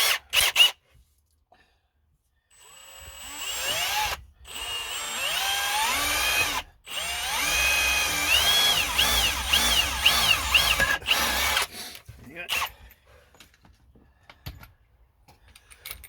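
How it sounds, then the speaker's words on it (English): A power drill whirs in several bursts with short pauses between, its pitch rising and falling as it bites into material, close and fairly loud. "going to drill a hole"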